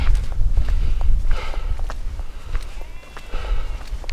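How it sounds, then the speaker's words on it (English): Sheep bleat near a walking trail in the British countryside, a few wavering calls at mid distance under wind noise and footsteps. "there's a lot of sheep around"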